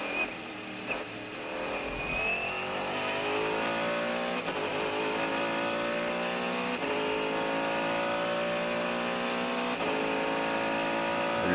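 A Mercedes naturally aspirated V8 race car at Le Mans 1999 screams at full power, a loud sustained engine wail climbing through gears with brief shift dips, steady and close.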